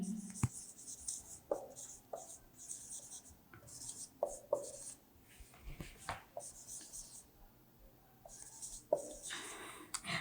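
Soft scratching strokes of a black pen writing on paper come in short bursts, with quiet tapping and faint background rustle. Close and low in level, with no speech over it.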